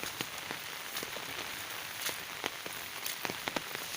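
Rain falling on a rubber tree plantation in the countryside of Ubon, a steady patter with scattered sharper drips striking leaves and surfaces nearby.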